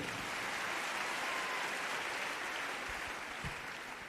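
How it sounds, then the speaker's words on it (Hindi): An audience claps for Gulab Chand Maurya, a steady, even wash of applause that holds for about four seconds at moderate volume and eases off slightly at the end. "एक जोरदार ताली इनके लिए"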